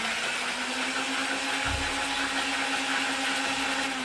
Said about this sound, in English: when you push this down button right here, right there, that revs the blaster, as does it rotate the drum